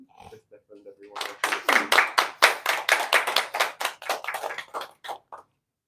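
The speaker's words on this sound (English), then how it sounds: "Give them a round of applause." A short round of clapping from a small group at a wedding solemnisation, rising quickly then tapering off after a few seconds.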